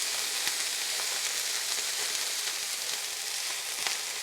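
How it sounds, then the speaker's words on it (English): Steady, dense sizzling of red meat frying in a hot pan for a Filipino dish, with scattered sharp crackles and pops throughout; close and continuous, no voices. "Hopefully you can hear this really nice crackling and sizzling."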